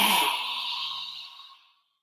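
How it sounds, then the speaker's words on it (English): A forceful breath pushed out across the throat during yoga, a single long breathy exhale that is loud at first and tapers to silence over about two seconds. "Forcefully exhale across the throat."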